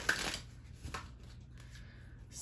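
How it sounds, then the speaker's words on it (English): A deck of oracle cards is shuffled in a quiet room, giving a few soft, brief riffling bursts close by. "I'm going to shuffle one more time."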